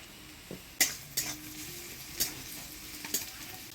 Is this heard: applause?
no